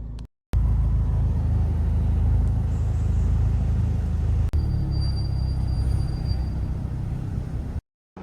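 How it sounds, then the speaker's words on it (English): A Volkswagen Golf R MK7.5 heard from inside while driving through a car park, a steady low engine and road rumble that runs almost the whole time, with brief dropouts at the start and end. "So this is my view when I'm driving the car."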